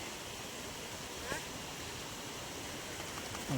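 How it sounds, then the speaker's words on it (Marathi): A flooded farm stream rushing after heavy rain, a steady broad roar of fast water that holds at even loudness throughout, with a faint voice briefly audible. "वड्याला पण पाणी आले भरपूर"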